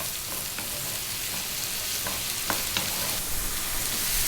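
Sliced white mushrooms frying in a pan over above-medium heat: a constant, dense sizzle with occasional scraping stirs and light clicks, close and without speech.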